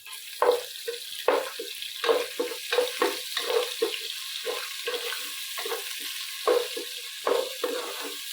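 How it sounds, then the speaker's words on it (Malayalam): Garlic ginger paste fries in hot coconut oil for a homestyle chicken curry, a steady close sizzle broken by regular wet clicks and spatters as the paste is moved about the pan. "വെളിച്ചെണ്ണ ചൂടായപ്പോൾ ഇച്ചിരി വെളുത്തുള്ളി ഇഞ്ചി പേസ്റ്റ് ഇട്ടൊന്ന് മൂപ്പിക്കാൻ പോകാം"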